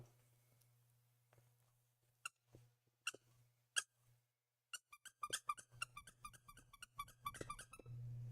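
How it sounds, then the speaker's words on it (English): A squeaky potato plush toy squeaking: scattered single squeaks at first, then a quick run of repeated high squeaks over a low steady hum, close and fairly clear. "I have potato plush and she squeak."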